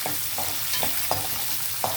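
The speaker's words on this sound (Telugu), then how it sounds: "ఇది కొంచెం వేగేటప్పుడే మనము ఇందులో వెల్లుల్లి వేసేద్దామండి." Garlic and green chilies frying in hot oil for a cauliflower and coconut dish, a steady soft sizzle with periodic scraping stirs roughly every third of a second.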